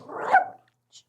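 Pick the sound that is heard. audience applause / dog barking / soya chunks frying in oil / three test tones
dog barking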